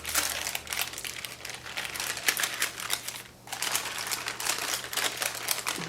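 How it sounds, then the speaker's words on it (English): Parchment paper peeled off a warm, freshly baked pumpkin roll sponge gives close, crackly crinkling bursts that run almost continuously, with a brief lull partway through. "And then you want to remove the parchment paper."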